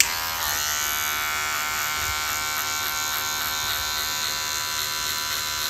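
Electric hair clippers run with no guard while cutting a fade, a steady close buzzing hum that holds unbroken throughout with no voices.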